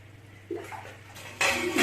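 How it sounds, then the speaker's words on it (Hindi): Water pours into a pressure cooker holding lamb cheeks and tongue for nihari, a short splash at first, then a louder, steady gush toward the end, close by with no talking. "अब देखिए पानी डाल रही हूँ मैं"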